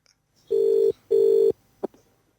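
A telephone rings twice in steady electronic bursts, loud and close, with a short pause between rings, followed by a faint click as the call is picked up.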